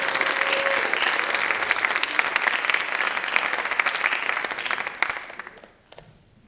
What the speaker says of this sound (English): Another round of applause for all of our new officers.